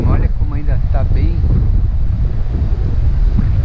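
Strong wind gusts buffet the microphone on a forested island coast at the southern tip of Florianópolis, with a rumbling low roar throughout and a brief voice near the start.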